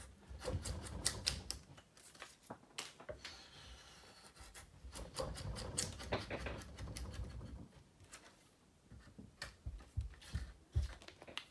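A draw knife shaves wood while a spoon is roughed out, producing repeated close scraping and rasping strokes in uneven bursts with short pauses between passes.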